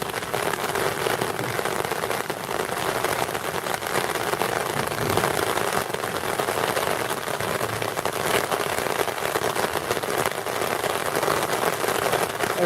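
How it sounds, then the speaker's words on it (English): Steady rain showers pour down in Cuernavaca, Mexico, a dense, even patter of drops on surfaces that holds at a constant level throughout, with no voices. "Still a lot of rain though."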